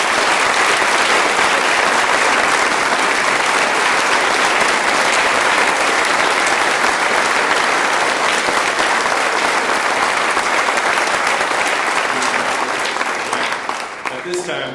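An audience at an honors convocation applauds in a thick, steady roar of clapping that lasts throughout and tapers slightly at the very end.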